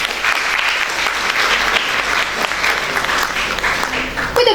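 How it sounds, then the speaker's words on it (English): Sustained, dense audience applause at a school award ceremony for Medha Manyata Divas 2023, steady and loud throughout with no breaks, filling the whole stretch. "Let us now give a huge round of applause for Mr. Nirmit Grover from Commerce"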